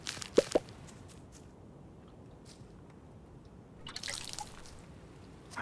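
Soft dripping and light splashing of water from a can onto freshly sown grass seeds in a farming video game, with a few distinct early drips followed by quieter trickles and a brief splashy patch near the end.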